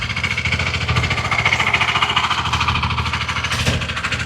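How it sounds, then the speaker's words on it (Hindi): A badly damaged scooter engine with a worn crank and piston runs steadily close by, giving a loud, rough, rapidly knocking idle throughout with no talk. "ये जो स्कूटी की आवाज आपने इंजन की सुनी"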